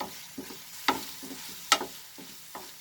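Chicken and potato cutlet mixture cooking in a pan over medium flame, a soft steady sizzle broken by a handful of sharp spatula taps and scrapes, close up with no talking.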